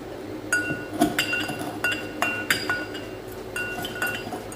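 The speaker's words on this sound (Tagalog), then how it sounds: "So, mamadal natin ng durog yung brown sugar." A muddler crushes brown sugar in a glass, giving repeated sharp clinks and taps against the glass at an irregular pace, close and clear with no talk.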